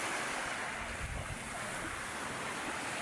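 Sea waves washing onto a beach in a steady broadband roar with wind buffeting the microphone, continuous and fairly faint, with no voices.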